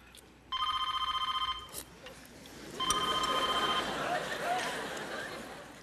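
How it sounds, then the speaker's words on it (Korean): A telephone bell rings in two bursts, a near, steady electronic trill, with room noise between and a brief murmur of voices. "아버지 창식이 아저씨 전화하는데요."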